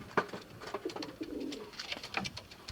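A pigeon sitting on a clutch of four eggs coos softly in a few low, rolling phrases close by, with faint rustling around it.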